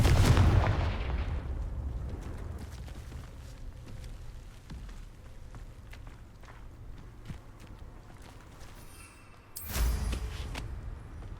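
Confringo blast spell cast in the Hogwarts Legacy video game: a sharp burst at the start, a second loud impact near the end, with footsteps and rumbling game ambience between.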